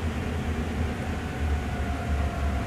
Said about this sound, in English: Each one of the coupling mechanisms is colliding with each other.